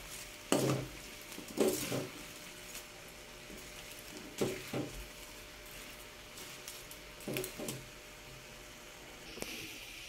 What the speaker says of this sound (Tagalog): Atin na pong haluin.